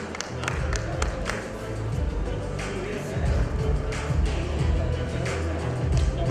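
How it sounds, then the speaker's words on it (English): A large crowd applauds a certificate recipient at a fellowship ceremony of an echocardiography academy, sustained clapping with some cheering and murmuring over a low hall rumble. "Big round of applause"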